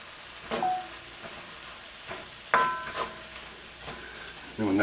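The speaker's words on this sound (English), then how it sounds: "I want to add the garlic and our ginger in there" Ground beef with garlic and ginger stir-fries in a pan, a faint, low sizzle broken by a few sharp clanks and ringing tones from the utensil against the cookware.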